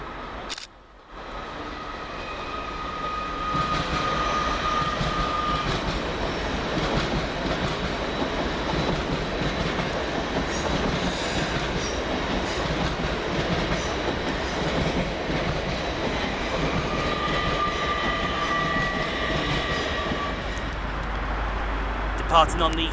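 An LNER class 801 train moves on the far side of Peterborough station with a steady, broad rumble and rolling rail noise, which sustains and swells slightly throughout, with a faint tonal whine and a bump at the start.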